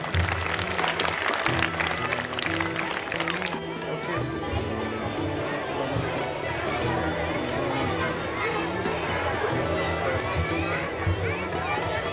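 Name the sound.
audience applauding award winners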